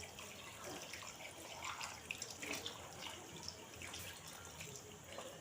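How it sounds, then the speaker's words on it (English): Water poured into a pot of vegetable soup with cow skin, heard as a steady, soft splashing and trickling with a few faint drips. It runs the whole time without any talk. "we are going to add water to it already so that it will cook very well."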